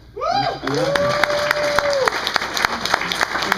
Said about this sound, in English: you guys want to give somebody a little applause right now